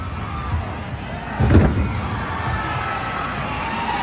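Arena crowd at a 1979 Houston pro wrestling match, a steady roar of cheering with a dull slam-like thud partway through, all held at a constant distant level.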